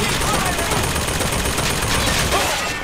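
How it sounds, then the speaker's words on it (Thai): Dense enemy gunfire in the first-person shooter Bioshock Infinite crackles continuously at loud volume, packed with rapid overlapping shots. "อ้าวทำไมมันยิงเราวะ"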